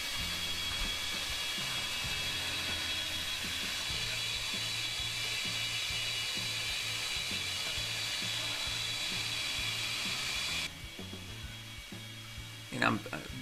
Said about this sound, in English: I'm just grinding both sides towards that center line